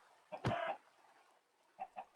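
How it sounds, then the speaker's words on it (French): Minecraft chickens give a short burst of clucks, then two softer clucks follow after a pause, close and clear with no talking. "Est-ce que les poules sont rentrées?"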